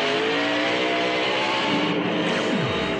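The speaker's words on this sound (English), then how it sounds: "You could hear the rear end chattering where the brakes locked up" Race car at the 1999 Pop Secret Microwave Popcorn 400 locking its brakes coming down pit lane, the rear end chattering under a loud continuous engine roar with a falling pitch sweep near the end.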